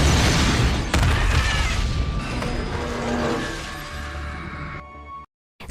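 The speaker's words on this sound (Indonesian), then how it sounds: "bom kembali meledak di sebuah bus dan menewaskan 16 orang" A bomb goes off on a bus as a film sound effect: a heavy boom with crashing debris and mechanical clatter, fading into a tonal ringing tail before dropping to silence.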